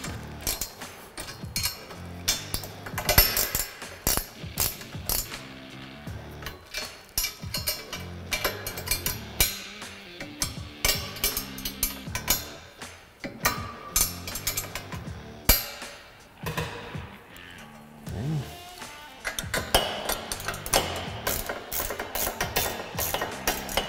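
Ratchet wrench tightening the mounting brackets of an expedition rack on a Polaris RZR1000, with rapid clicking runs that repeatedly stop and start, close up and without talk.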